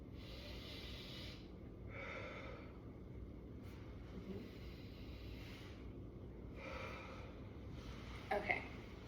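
A patient takes two big, deep breaths during a respiratory assessment of thoracic expansion, each a soft, airy breathing sound heard up close over a low steady background hiss.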